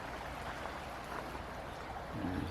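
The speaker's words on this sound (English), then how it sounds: "We got a beautiful river." A river flows beside a campground, heard as a soft, continuous rushing and burbling of water at moderate distance with no voices.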